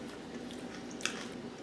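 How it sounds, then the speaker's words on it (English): A crunchy fresh cucumber from a farmer's market is bitten and chewed, giving one short crisp crunch over a soft, steady background hum. "This is a very crunchy cucumber."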